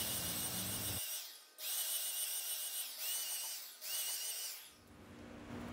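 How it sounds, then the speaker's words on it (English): Power sanding of a painted wooden cube-shaped lamp before refinishing with polyurethane, a steady close whirring hiss in three long bursts separated by brief pauses. "I'm going to sand it some more and then go back to my tried and true polyurethane."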